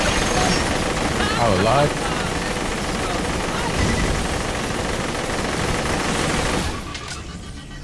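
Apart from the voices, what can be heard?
gunfire shooting in the video game Borderlands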